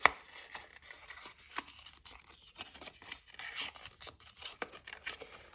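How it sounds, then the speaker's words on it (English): Paper is scored and folded into valley creases for a handmade Christmas card, producing quiet, irregular scraping and crinkling strokes close by, with small soft taps scattered throughout. "you're going to score these at 1, at 2, 3 and 4"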